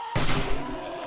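Rifle fire in the video game 7 Days To Die: a single sharp, loud shot that starts suddenly and leaves a short rumbling tail, with nothing else around it.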